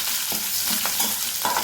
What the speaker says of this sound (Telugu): వేసి వేయించుకోవాలి